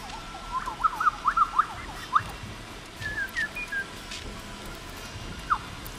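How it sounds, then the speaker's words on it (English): Whistling in the video game Deathloop, a series of short tuneful chirps and warbling notes in bursts over a steady low game ambience, with one more brief whistle after a pause. "This is the very first time I've actually been able to whistle."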